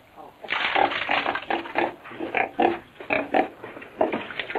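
A pig on a Chinese farm grunts and squeals in repeated short bursts, fairly close and moderately loud, with faint background noise and no talk.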